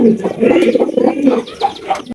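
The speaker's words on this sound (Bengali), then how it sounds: "রয়েছে আরো এক জোড়া শর্ট ফেস কবুতর" Short-faced pigeons coo in close, repeated soft bursts, their throaty calls loud and steady with faint chirps mixed in, no voices present.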